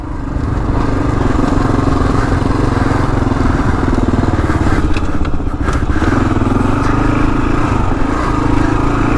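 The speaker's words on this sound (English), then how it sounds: "This bike's a little heavier than a motocross bike." A Kawasaki KLR dual-sport motorcycle rides off-road through desert terrain, its engine droning loud and steady throughout with wind rush and occasional clatter from the bike over rough ground.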